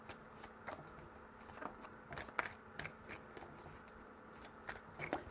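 Tarot cards being shuffled, quiet riffles and flicks in irregular bursts close to the listener, with faint sharp slaps and no talking over them.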